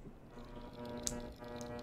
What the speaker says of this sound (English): That sound is the lights flickering.